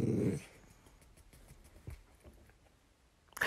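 A dog gives a deep, loud growling bark at the start, then faint scuffling and small thumps follow before another loud burst at the very end.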